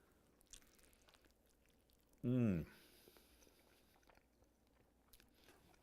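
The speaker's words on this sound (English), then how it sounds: "So let's just dive into it and give it a bite." A single loud, crunchy bite into crispy-skinned barbecue chicken coated in sauce and a salty, spicy rub, a short burst close to the mic with quiet room tone before and after.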